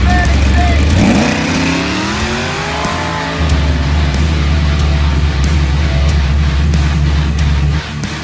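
Rebuilt engine in a Holden VT Clubsport firing at its first start-up, cranking then catching into a loud, steady idle with a deep rumble, close by.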